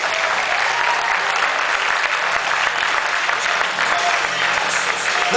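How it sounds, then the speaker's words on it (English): Steady, dense applause from an audience at a 2011 NPC Bill Grant Classic bodybuilding competition, filling the whole stretch at an even, loud level without letting up. "Let's hear it for both of these competitors. Come on, big round of applause."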